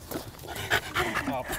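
A pet dog pants at home, giving quick, soft breathy puffs close by, with a voice talking over it.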